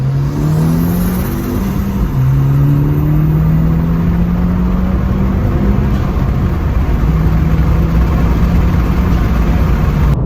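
A tuned 2020 Honda Civic Si and a 2013 Hyundai Genesis 2.0T accelerating hard side by side, a loud, steady, droning engine heard from inside the car with rising tones and a brief dip between gear shifts.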